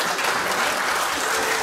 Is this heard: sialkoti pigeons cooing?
no